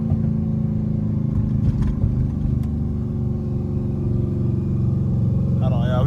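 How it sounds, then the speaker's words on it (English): A Dodge Scat Pack engine revs through downshifts as a loud, steady, close rumble for the whole stretch, with voices low in the background. "I hear them downshifts though."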